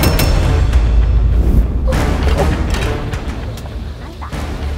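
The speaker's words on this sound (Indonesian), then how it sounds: "kalau pakai bambu emang suka meleduk, Mas Boy, kayak gini." Wet bamboo bursts with sudden booming bangs inside a wood-fired clay stove. Heavy, crackling low rumbles fill the clip, and a sharper pop comes near the end, with no clear speech.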